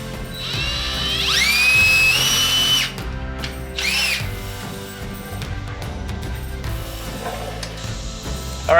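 A power drill running in bursts while an inverter is mounted in a camper conversion, with a loud high whine that rises in pitch as it spins up, drops off, and starts again.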